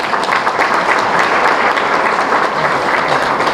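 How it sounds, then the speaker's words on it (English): An audience at a high school basketball association's annual banquet breaks into sustained, even applause, the clapping of many hands filling the room with no talk. "I think we should all applaud the committee here tonight."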